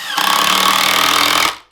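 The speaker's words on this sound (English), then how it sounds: "Drill the hole." A power drill drives a screw into a wooden drawer in one loud, steady whir of about a second and a half, starting abruptly and cutting off sharply.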